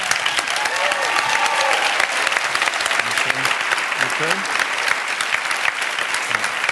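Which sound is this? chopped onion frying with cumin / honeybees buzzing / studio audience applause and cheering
studio audience applause and cheering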